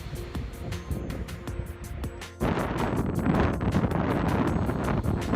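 Strong wind buffets the microphone in loud, continuous gusts on the Cucamonga Etiwanda hiking trail, growing rougher and louder partway through, with faint rustling beneath.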